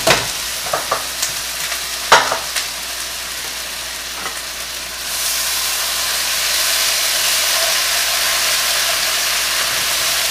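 Vegetables, shirataki noodles and tofu stir frying in a pan: scattered clacks of a utensil stirring over a crackle, then a steady loud sizzle and hiss that swells halfway through and carries on alone.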